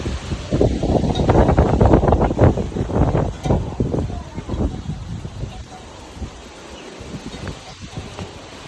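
Strong wind during a sudden dust storm in a village buffets the microphone in loud rumbling gusts that swell over the first half and then ease into a steadier rushing roar, with some voice mixed in.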